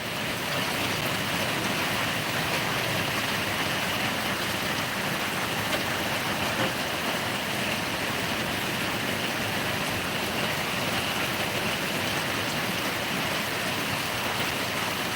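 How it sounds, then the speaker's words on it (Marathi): Heavy rain pours down steadily in Sangli district, Maharashtra, a dense, unbroken hiss that stays loud and even throughout with no voices. "बाबा पाऊस किती जोरात पडाला हे दाखवालो आहे"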